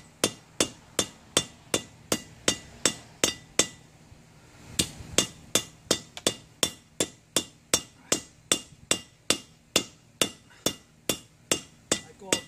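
Blacksmith hammer blows ring out in a fast, regular series as a metal leaf for a Targaryen sigil is thickened and flattened, each strike a sharp close metallic clang, with a brief pause midway.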